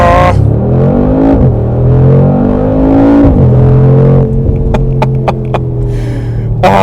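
A 2021 Mercedes G63 AMG in Sport Plus with the exhaust open revs hard, its loud, close engine note rising and falling in pitch, then settling to a burbling idle with sharp crackles near the end.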